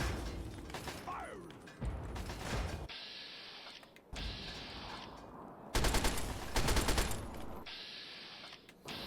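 Rapid gunfire and mechanical weapon clatter from the game Fallout 3 come in several dense bursts separated by brief pauses, moderately loud throughout.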